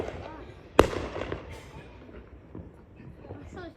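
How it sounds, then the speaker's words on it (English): July 4th fireworks with one sharp, close bang followed by fainter distant pops and crackles, while people talk. "This is like the most fireworks in a day."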